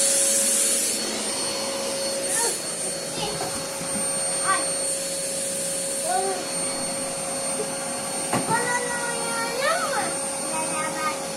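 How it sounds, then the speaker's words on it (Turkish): A household vacuum cleaner runs steadily with a high whine and hum, while a child and an adult talk and call out over it, with a few sharp louder bursts. "Süpürge çalışıyor."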